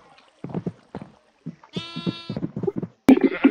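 Blocky Minecraft sheep bleat in short repeated calls, several distinct baas spaced through the moment, close and clear with brief gaps of quiet between them.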